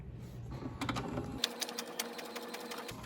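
A home printer feeds and prints onto a paper napkin, making a steady mechanical whir with rapid rhythmic clicks and ticks, close and continuous.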